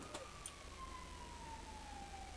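An ambulance siren wails faintly in a roleplay video game, its steady tone sliding slowly downward over a low engine hum, with a couple of brief clicks near the start.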